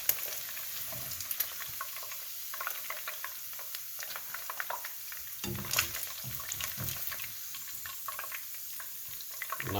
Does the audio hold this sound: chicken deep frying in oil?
yes